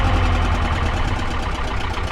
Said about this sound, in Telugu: మోటార్ సౌండ్ ఎక్కువ అయిపోయింది